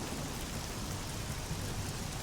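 Steady, dense rain hisses and patters on surfaces in the video game Oblivion, a continuous even wash with no talk.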